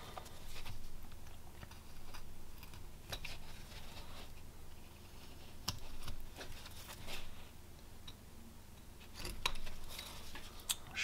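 A knife whittling a small wooden knight figure, with steady close scraping and shaving cuts and occasional sharper clicks over a constant background hiss, no voices.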